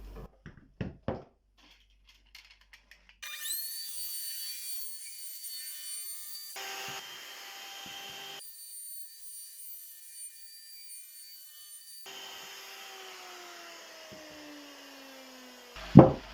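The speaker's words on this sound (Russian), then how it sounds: "Края буду скруглять вот такой фрезой." Router fitted with a round-over bit shapes the edges of a wooden board, starting with a few knocks and then running as a steady whine in several long passes, ending with a sharp clunk.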